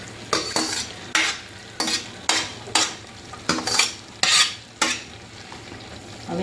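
Hakka noodles are tossed and stirred in a pan over low heat, each scrape of the utensil landing as a sharp clattering stroke, about a dozen at a steady rhythm over a soft sizzle.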